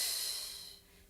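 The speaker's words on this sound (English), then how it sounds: "Inhale and exhale." A single audible breath during a Pilates exercise, a soft close airy exhale fading out over about a second.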